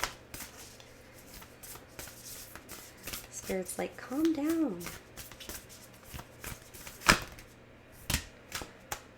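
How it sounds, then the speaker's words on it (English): A deck of tarot cards is shuffled in a calm, soft way, producing brief riffling bursts and light taps between quiet spoken remarks. "We'll just take a nice little calm shuffle."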